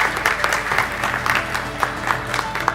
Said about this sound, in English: Please give him a big round of applause on stage.